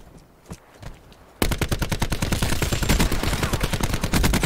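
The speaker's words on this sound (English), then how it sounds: "I love how I can shoot through the walls" A few faint shots in Call of Duty give way to a loud, steady stream of rapid automatic fire from close range, firing through walls with a fast regular rhythm lasting several seconds.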